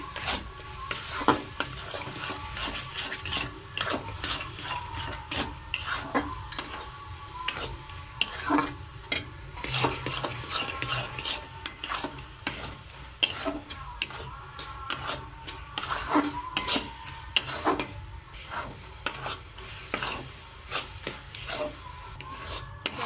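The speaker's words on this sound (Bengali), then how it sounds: "দেখি এইভাবে নাড়ছি" Grated coconut cooked with milk in a pan is stirred and scraped by hand, giving close, rhythmic rasping strokes over a soft sizzle that repeat steadily throughout with no talking.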